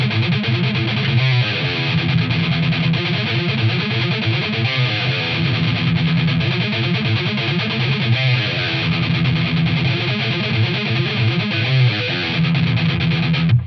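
A distorted electric guitar plays a metal intro riff in Phrygian dominant, pedaling off an A, dense and loud with fast chugging rhythm throughout, no voices.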